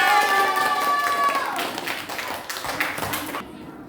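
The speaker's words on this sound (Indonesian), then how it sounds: "Kasih tepuk tangan semuanya" Students in a fifth-grade classroom clap together after a correct answer, a short burst of scattered hand claps with some voices, fading out near the end.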